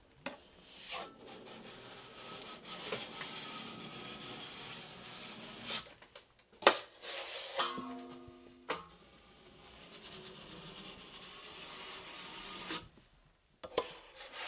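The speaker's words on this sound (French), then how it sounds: "Remplissez le raccord avec un finisher et exercez encore une pression sur les deux côtés." Plaster being smoothed over a drywall joint with a wide trowel while finishing a bathroom wall, giving a steady scraping rasp in long strokes with short pauses and a few sharper scrapes.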